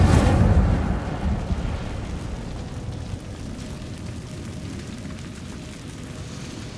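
A fiery spell is cast in Hogwarts Legacy. It starts as a loud burst that quickly settles into a steady crackling, roaring rush that fades gradually over several seconds, with no voices.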